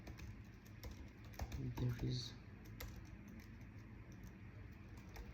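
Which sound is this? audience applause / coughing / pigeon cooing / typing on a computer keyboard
typing on a computer keyboard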